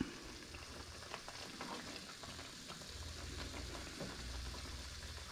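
A mushroom and onion mixture fries quietly in a pan, left to caramelize, giving a soft, steady sizzle with faint crackles and a low background hum; no speech.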